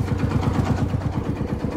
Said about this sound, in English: A really smooth running one cylinder tractor.